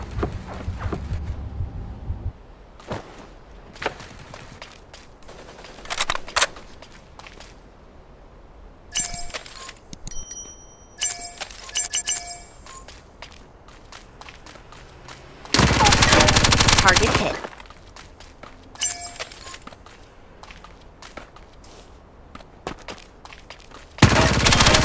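Gunfire in the mech battle game Super Mecha Champs comes in scattered bursts and sharp cracks, with one long dense barrage of rapid automatic fire midway, over quieter game ambience.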